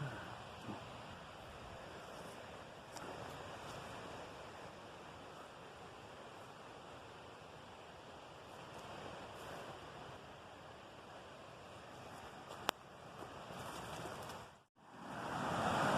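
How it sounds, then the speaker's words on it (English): Scott Gomer Creek flowing at Guanella Pass, a steady broadband rush of mountain water heard close by for the whole stretch, with a brief wind buffet and dropout near the end. "This is the Scott Gomer Creek at Guanella Pass."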